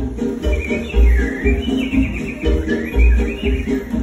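Animatronic birds chirp and tweet in quick rising and falling phrases during Disney's Enchanted Tiki Room show, over a steady low musical backdrop with repeated soft thumps.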